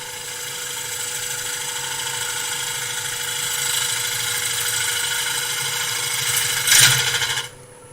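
A wood lathe spinning a bowl as a tool cuts away part of the rim, a steady whirring hum with a constant scraping cut and a brief louder catch near the end before the motor noise drops away.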